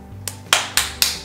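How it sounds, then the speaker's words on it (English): Several sharp hand claps ring out close by near a small robotic Fingerlings toy, a faint one followed by three loud, evenly spaced claps, each with a brief decay. "just do one big loud clap."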